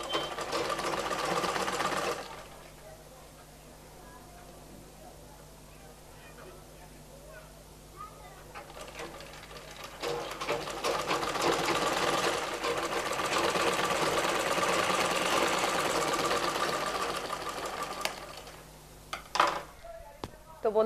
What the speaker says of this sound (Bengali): তা আমি এভাবে করে নিয়ে এখন আমি সাইড থেকে সেলাইটা করব।